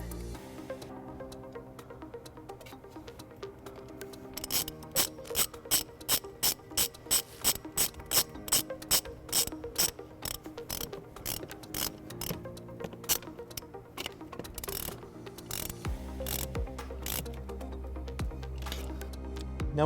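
A ratchet tightens a nut on a ring terminal while a trailer wiring harness goes into a 2018 Infiniti QX50, a rapid, even series of close, crisp clicks that runs for several seconds, pauses, then resumes in faster strokes.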